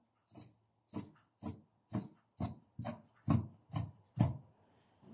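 Scissors cut through fabric for seamless-side pyjamas in nine evenly spaced rasping snips about half a second apart, close up and clear, with no talking.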